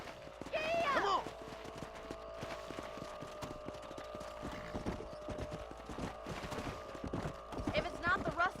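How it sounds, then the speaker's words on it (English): Horses ride along in the western game Red Dead Redemption, their hooves clip-clopping in a steady rhythm with a brief whinny at the start, while people talk over the hoofbeats. "Let's get back on the horses and see what else is going on."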